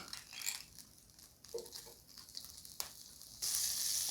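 Chicken pieces searing in butter in a pan for chicken marsala, a quiet crackling sizzle with small pops, turning into a louder, brighter hiss near the end.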